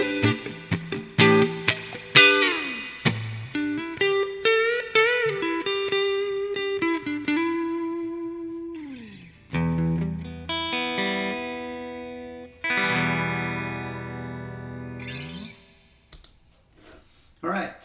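An electric guitar played clean through an American Tube Clean 1 amp model with no modifications, picked single notes and chords ringing out and sustaining, close and clear, alone without talk.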